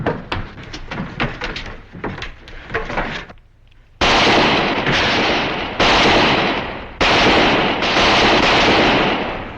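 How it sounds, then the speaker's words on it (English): Gunfire from Mr. Buntline's gun in a Wild West shootout: four loud, close blasts, each followed by a long ringing decay, coming after a stretch of scuffling clatter and a brief hush. "Mr. Buntline, here's where I use your gun"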